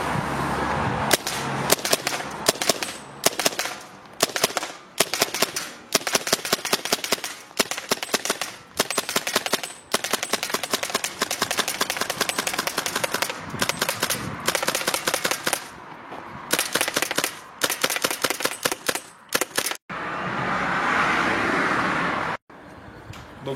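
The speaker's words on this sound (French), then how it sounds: "on se retrouve pour le test de tir avec le chargeur en système CO2" A CO2-magazine airsoft gun fires in rapid strings of sharp, close cracks, the bursts broken by short pauses. A steady hiss follows near the end.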